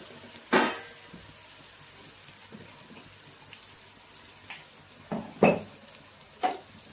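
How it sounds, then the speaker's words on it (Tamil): Tomatoes sautéing in oil in a pan for a brinjal and field-bean gravy, with a low steady sizzle throughout. Several sharp louder bursts of stirring or clatter sound near the start and again toward the end. "இந்த ஸ்டேஜில் நம்ம தக்காளி சேர்த்துக்கலாம்"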